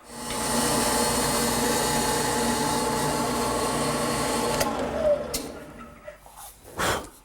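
A power sander whirs steadily and loudly on wood for several seconds, then shuts off, leaving a few scattered knocks and clatters.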